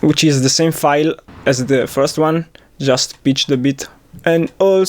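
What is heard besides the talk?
No distinct noise like a dog, phone or traffic.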